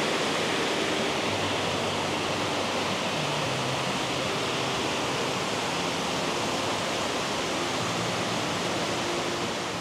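A waterfall in Thailand roars loudly and continuously, a dense rushing wash of falling water with no break and no voices.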